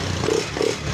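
Motorcycle engine idling steadily after a kickstart, a close continuous low rumble with light mechanical clatter and a couple of brief swells across the second.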